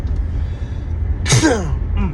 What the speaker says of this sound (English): Hold on, excuse me, I gotta sneeze.